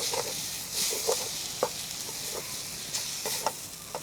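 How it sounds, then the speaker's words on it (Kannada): Gongura leaves frying in a pan, stirred now and then: a steady soft sizzle broken by a few short scraping strokes of a spoon, close and moderately loud. "ಸೊಪ್ಪನ್ನ ಫ್ರೈ ಮಾಡಿ."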